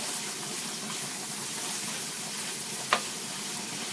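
Ground meat browning in a pan gives off a steady, close sizzle that holds throughout, with a single small click near the end and no talk.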